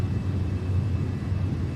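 An MD-11 freighter on its takeoff roll in X-Plane 12 gives a steady, loud, broadband engine roar that rumbles low and continuous throughout.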